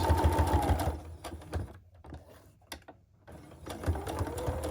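A sewing machine chain-pieces quilt pieces on paper in close, quick runs of rhythmic stitching, breaking off into a quiet pause with a few clicks before starting up again.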